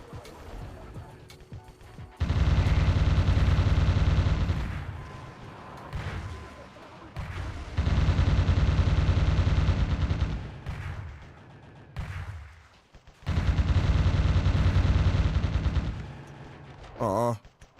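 Video game gunfire roars in three long, loud, sustained bursts of rapid automatic fire, separated by short, quieter gaps with lingering rumble.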